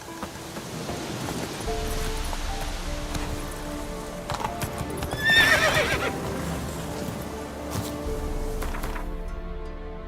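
Roach, the horse in The Witcher 3, lets out a loud whinny midway while hooves clip-clop steadily around it, with soft rain-like patter in the background.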